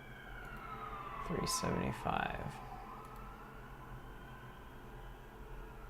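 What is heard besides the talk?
emergency vehicle siren outside an open window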